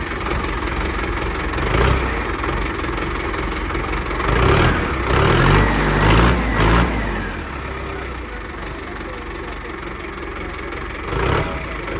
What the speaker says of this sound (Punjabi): ਆਪਾਂ ਸਟਾਰਟ ਕਰਕੇ ਦਿਖਾਤਾ ਟਰੈਕਟਰ